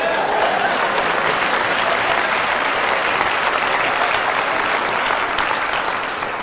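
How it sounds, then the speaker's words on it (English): Steady, dense audience applause from a large crowd at a motivational talk, sustained and loud throughout before tapering slightly at the end. "Come on, clap."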